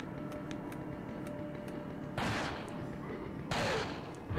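Gunfire in Resident Evil 4: two loud gunshot blasts about a second apart stand out over a low, continuous game ambience.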